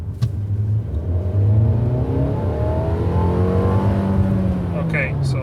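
Mercedes A220 car accelerating from 30 in second gear: a steady engine drone climbs smoothly in pitch throughout, close and continuous, with no talk over it.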